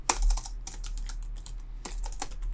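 Fingers typing C++ code on a computer keyboard: close, quick bursts of light key clicks with a short pause in the middle and no speech.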